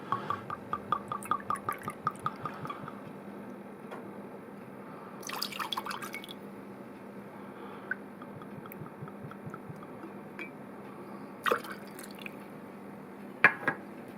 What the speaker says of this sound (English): Next, I'm going to put into there some of my rye whiskey.